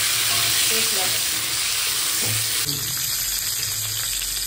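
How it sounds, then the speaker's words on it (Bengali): Cauliflower florets frying in hot oil for an egg curry give a steady, close, broadband sizzle with no break, and a faint scrape of stirring sits underneath. "এই তেলের মধ্যে ফুলকপিগুলো দিয়ে ভেজে নিই"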